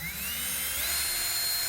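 A power drill boring into a pinball playfield door, a continuous high whine that climbs slightly in pitch, close and alone.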